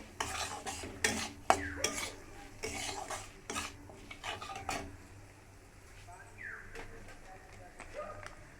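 Egg chowmein seasoned with turmeric is stirred in a pan, a spatula clattering and scraping against metal in quick, busy strokes that ease into quieter, sparser scrapes toward the end.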